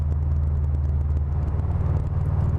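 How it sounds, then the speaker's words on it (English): Inside a Subaru WRX STI cruising in 5th gear with sport mode selected, the exhaust gives a steady, deep droning rumble, loud and continuous, without any talking. "A little bit different in tone in the exhaust, as you guys could hear there."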